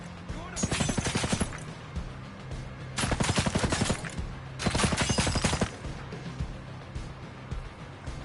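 Automatic gunfire in the shooter game Ghost Recon Breakpoint, three long rattling bursts of rapid shots separated by short pauses, loud and close.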